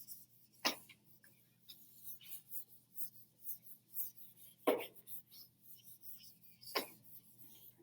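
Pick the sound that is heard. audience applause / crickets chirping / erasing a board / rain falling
erasing a board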